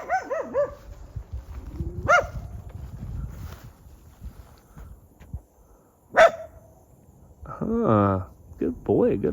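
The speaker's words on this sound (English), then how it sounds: "There's some dogs over here." Dogs bark in scattered sharp yelps and woofs, a couple close and loud, with a drawn-out howl or whine near the end, outdoors at a corral amid low rustling and noise.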